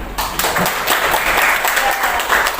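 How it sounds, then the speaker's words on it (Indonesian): A class of students bursts into loud, continuous applause for a group, many hands clapping together close by for a few seconds. "Kita kasih tepuk tangan untuk kelompok 6"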